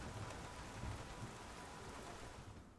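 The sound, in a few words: rain falling in F1 2019 video game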